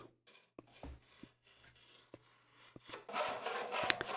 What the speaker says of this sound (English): he just uses a crosscut saw to do this